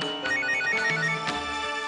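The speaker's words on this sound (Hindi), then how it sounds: "आपका फोन।" A telephone ringtone plays a bright, repeating melodic chime indoors in a Hindi TV drama scene, clear and steady at moderate volume, with no voices over it.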